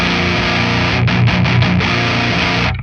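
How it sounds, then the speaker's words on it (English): A heavily distorted electric guitar with a big, woofy bottom end chugs a thick, boomy riff with a few quick choppy stops, loud and close, before ringing out. "Now, I left a big bottom end on this distortion."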